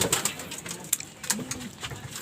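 Soft, low coos from breeder racing pigeons rise briefly amid a busy background of scattered chirps and clicks, fairly close.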